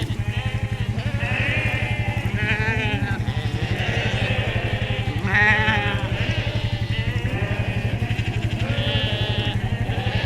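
A flock of sheep bleats from several directions while being moved into a new 40-acre paddock, heard over a steady low rhythmic engine drone.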